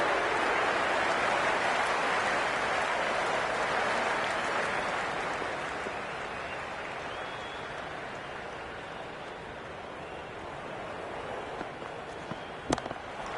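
A stadium crowd in the cricket video game Cricket 26 roars with applause after a boundary four in an IPL match, a broad wash of clapping that swells and then slowly fades, with no commentary over it.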